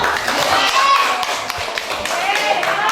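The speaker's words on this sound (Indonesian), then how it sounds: "Kasih tepuk tangan untuk Reno." Classroom of students clapping together for a classmate, a steady dense patter of small hands filling the room, with children's voices and chatter mixed underneath.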